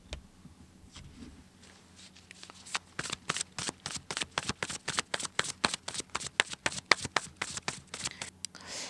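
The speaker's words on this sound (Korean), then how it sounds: "좋은 카드 한 번만 뽑아볼게요." Tarot cards being shuffled by hand, close and crisp, starting with soft handling and building into a steady run of quick, rhythmic riffling snaps.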